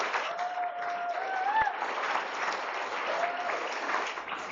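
Steady applause from a crowd welcoming a keynote speaker at an NAACP Freedom Fund banquet, broad and continuous, with a brief whistle-like tone rising through it.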